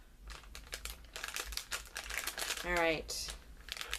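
Plastic packaging crinkles and rustles up close in quick bursts while a person speaks briefly; a short tearing rip stands out midway.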